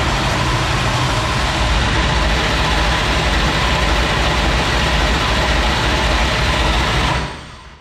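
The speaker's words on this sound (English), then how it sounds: "So now we're gonna fire this thing up." A dirt race car engine idles loud and close, a dense steady mechanical roar with rattling valvetrain texture, holding constant for about seven seconds before cutting off and dying away.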